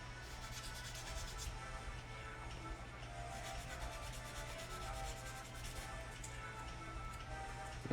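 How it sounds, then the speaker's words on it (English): Light sanding of leftover burrs on the barrel of a 1/35 scale M1A2 model tank, a continuous soft rubbing rasp held close at even level, with a low steady hum underneath and no speech. "And you can just lightly sand down"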